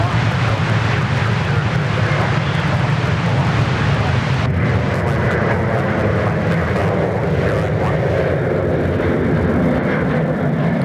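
Virgin Australia airliner taking off at Sydney Airport, a loud, continuous broadband jet engine roar filling the whole clip with steady rumble and hiss, no speech over it.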